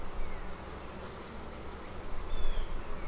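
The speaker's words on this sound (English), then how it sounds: "this hive is loud. That is generally a sign that they are queenless." A queenless honeybee hive buzzing loudly, a dense close droning hum that swells toward the end, with no voices.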